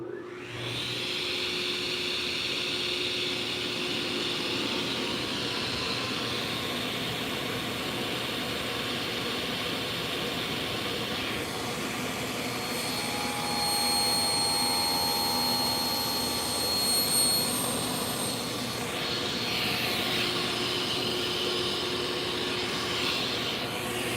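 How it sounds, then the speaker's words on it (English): A 4 horsepower sliding table saw cuts through solid hardwood, a steady loud broadband whine and roar held for the whole stretch with a slight swell midway, no talking over it. "I don't know how well you can hear me, but that's why I use the table saw"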